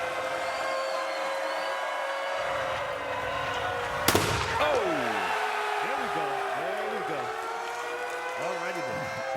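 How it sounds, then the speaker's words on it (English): A ceremonial cannon fires once with a loud, sharp boom at a college football stadium before the Iowa State vs Iowa game, rising over a constant roaring crowd, followed by wailing sirens and an announcer talking. "The cannon's got us started."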